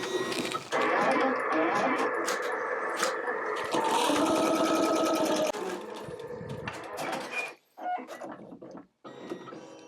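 An embroidery machine stitching a border on a birth announcement piece, a steady loud mechanical whirring and rattling hum that changes pitch, then falters and stops in short gaps near the end, with a voice talking.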